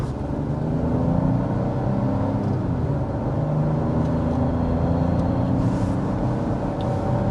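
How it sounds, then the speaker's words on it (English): Cabin noise inside a 2025 Buick Envista Avenir front-wheel-drive crossover accelerating: a steady low engine and road drone with faint whir, moderately loud and continuous, no talking. "as we accelerate up to around 55 miles per hour"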